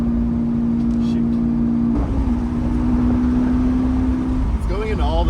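A Lamborghini engine drones at a steady pitch, dropping and resettling as it shifts through the gears, with a brief rising whine near the end; loud and close.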